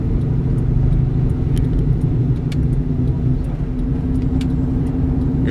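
A 1999–2004 New Edge Ford Mustang GT drives along with its muffled, throaty engine and exhaust rumbling steadily from inside the car, without strong revving.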